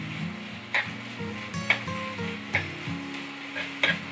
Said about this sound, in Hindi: थोड़ा सा बिल्कुल गरम मसाला, इन सब चीज़ों को अच्छे से मिक्स कर लूँगी मैं।